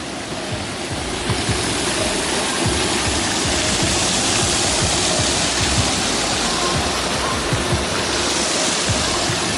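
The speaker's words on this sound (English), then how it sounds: "See, the turtle spit out water." A turtle-shaped fountain spouts water at the Royalton Negril resort in Jamaica, producing a loud, constant rushing splash close by, like a small waterfall, with no voices over it.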